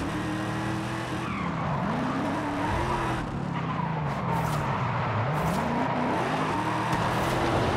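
A low-horsepower car drifting in the racing game Forza Horizon 5, its engine droning continuously as the tires squeal and skid in long sliding arcs, loud and steady throughout with no talking.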